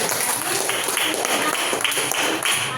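Schoolchildren clap their hands in a classroom, a steady, dense patter of many small claps with voices mixed in underneath.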